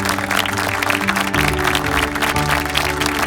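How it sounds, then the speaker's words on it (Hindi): A crowd claps loudly and continuously after a children's singing performance on a Christmas praise show, a dense close wash of applause with faint tones running underneath. "तो आपके लिए जोरदार तालियां।"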